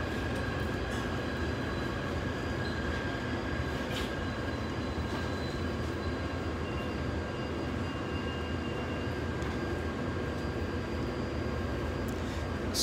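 Continuous rumble and rattle of a Taipei Metro train in motion, heard from inside the carriage, steady throughout with occasional faint clicks.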